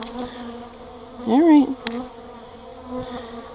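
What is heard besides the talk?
swarm of honey bees buzzing around beekeeper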